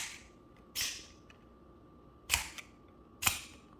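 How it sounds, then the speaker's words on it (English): A Klein 27-in-1 precision screwdriver's bit carousel snaps open and shut in three sharp, close plastic clicks spaced about a second apart against near silence. "you can hear the carousel opening and closing"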